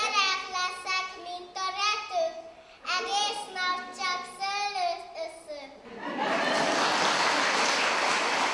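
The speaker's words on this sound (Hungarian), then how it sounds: "A gyerekek műsorát végig tapsvihar és hangos nevetés kísérte." Children from a kindergarten group sing a song for elderly residents at a seniors' day event, then an audience breaks into sustained applause, a loud dense clapping that continues to the end.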